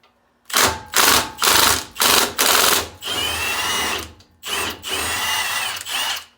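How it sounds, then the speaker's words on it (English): A power tool undoes an 18 mm head bolt on the bottom shock mount of a Dana 44 rear axle. It fires in several loud, rapid whirring bursts, first short and evenly spaced, then longer runs, close up and alone. "now I'm just undoing the bottom shock mount, which is 18 millimeter head bolt"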